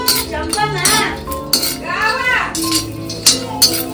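Dry rattling and metallic scraping as peanuts are stirred while roasting on a hot griddle, up close, with voices speaking intermittently over it.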